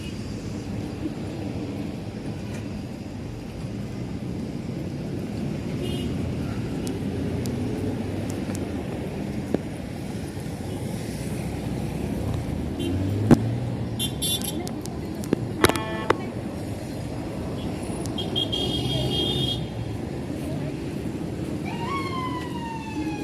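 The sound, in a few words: road traffic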